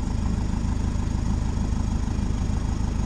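A turbocharged car engine idles loudly and steadily after a turbo replacement, a continuous low rumble close by with no voices.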